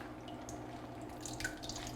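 Excess water drips from a squeezed salted napa cabbage as it is prepared for kimchi. The drips are faint and sparse, falling over a quiet background hum.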